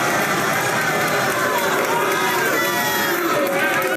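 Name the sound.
crowd going wild at rap battle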